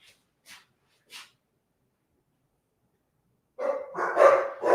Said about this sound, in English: And cue the dogs.